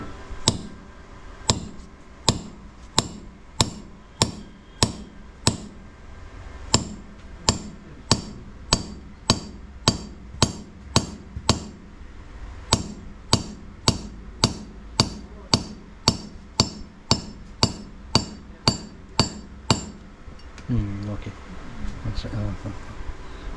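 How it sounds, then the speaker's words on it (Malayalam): A hammer strikes a punch to work designs into an Aranmula metal mirror, giving about thirty sharp, evenly spaced metallic taps, close and clear, before they stop and a soft voice is heard. "പിന്നെ പഞ്ച് ചെയ്ത് കൊടുക്കും"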